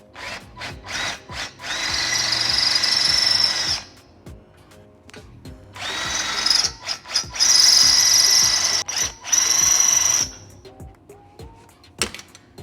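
Modified drill bit cutting out a spot weld in thin sheet metal, two long whining bursts of drilling separated by a pause, close and loud, with short bumps and clicks of handling between.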